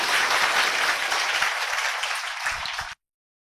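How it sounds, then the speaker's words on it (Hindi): Audience applause at a Hindi motivational event for selected teachers: dense, steady clapping from a crowd, loud and sustained for about three seconds before cutting off abruptly. "तालियों में जोर होना चाहिए"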